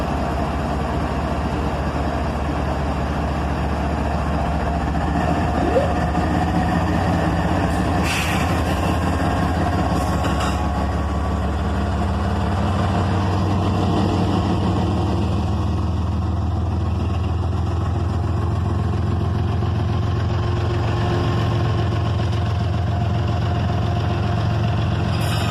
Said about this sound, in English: An ET44AH and an ES44ACH get this train moving again.